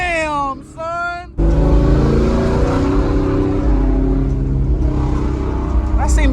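A Ford Mustang drifts with oversteer on a track setup, its engine revving hard in a loud sustained roar close by, after a short stretch of people talking.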